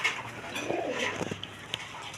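A pair of blackless shirting pigeons coos in a loft, soft low burbling calls repeating close by over a faint background hiss.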